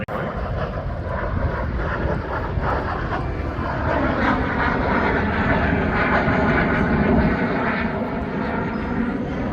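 Fixed-wing aircraft flying at an air show in Tyler, a loud continuous engine roar and rushing drone filling the whole stretch without pause, no voices.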